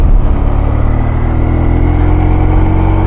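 A BMW R1100 flat-twin motorcycle engine pulls steadily in fourth gear, a loud, continuous low throbbing drone that holds its pitch and rises slightly under load, close and unbroken throughout with no talking.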